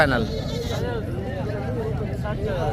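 Sheep and goats bleat at a busy livestock market for rams and goats, wavering animal calls rising over a constant hubbub of crowd chatter and nearby voices.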